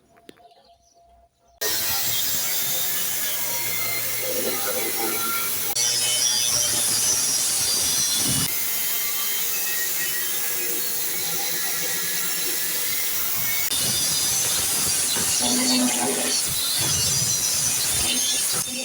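Angle grinder or cutting tool slicing rusted steel out of a campervan's inner wheel arch during rust repairs, a loud continuous harsh grinding hiss with shifting pitch that runs almost unbroken after a quiet start.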